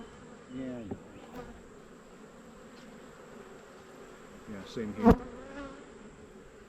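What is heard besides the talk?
honey bees buzzing at an open beehive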